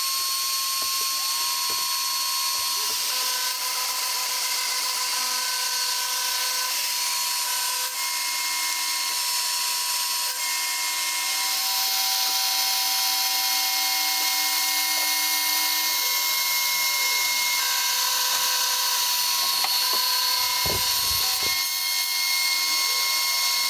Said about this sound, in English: I've just attached some 12mm birch ply onto the wasteboard of my CNC machine, and I'm going to cut the next version of the CNC sharpening jig.